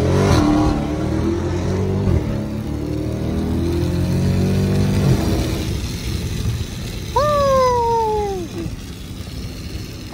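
A Dodge SRT 392 revs hard through first gear, its loud engine rising in pitch before easing off, and then a second, shorter high-pitched rev sweep rises and falls near the end.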